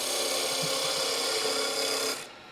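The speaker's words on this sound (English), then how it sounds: "That catching that you're hearing is because I've got a curve and I'm going too far down, so I'm catching the leading edge of the gouge" Spindle gouge scraping and catching against a wooden finial spinning on a lathe, a steady close rasping cut that runs continuously then cuts off abruptly near the end.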